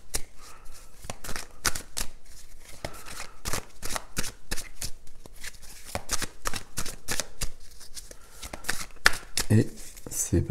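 Tarot cards are shuffled for a reading in a dense run of quick, crisp riffling flutters and taps close up, while a person speaks throughout.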